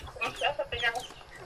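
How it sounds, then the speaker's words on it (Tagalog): Chickens cluck in a short burst of overlapping calls while being fed, close by and moderately loud. "nag-i-enjoy magpakain ng manok"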